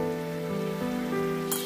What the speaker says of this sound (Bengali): টমেটোগুলো আমি মিনিট তিন চার সময় নিয়ে ভেজে নিয়েছি।